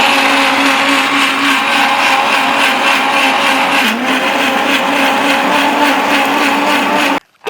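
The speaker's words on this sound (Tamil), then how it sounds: "மிக்சியில் போட்டு அடித்து அப்படியே ஜூஸாக எடுத்துக்க போகிறோம்." A mixer grinder blends pomegranate seeds into juice, a loud steady motor whir with a busy churning drone running unbroken for about seven seconds before cutting off abruptly near the end.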